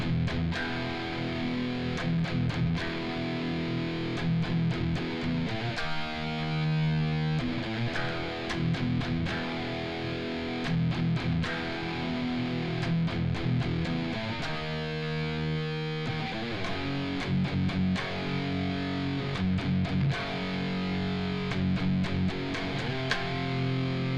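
Distorted electric guitar playing the rhythm under a vocal harmony section, choppy chugging chords with an awkward, syncopated feel and short gaps, played alone at moderate volume.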